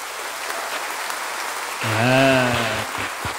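At an evening Simbang Gabi mass in Quiapo Church, the congregation claps in a soft, steady wash of applause, then a voice rises over it near the end.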